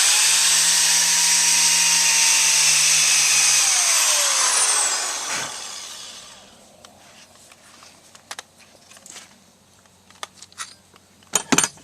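A large drill bit countersinks holes in the wooden foot of a clothes rack: a loud, steady drilling whine for about five seconds that winds down in pitch, followed by quiet scattered clicks and knocks.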